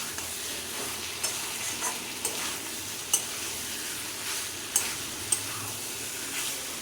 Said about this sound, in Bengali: এবার মশলাটা আলু পটলের সাথে মিশিয়ে নেবেন।